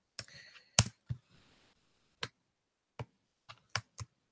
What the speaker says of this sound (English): You can just type stuff in here.